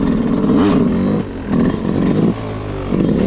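A dirt bike engine revs loud and near during a slow wheelie, blipping in surges with brief dips between pulls of the throttle.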